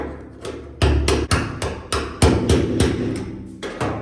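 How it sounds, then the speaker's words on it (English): Sharp metallic hammer blows strike a punch about ten times in an uneven rhythm, knocking off the lock ring of a GMC motorhome gas tank sender, loud and close, each hit ringing briefly. "you take the hammer and hammer with the punch, and remove the lock ring"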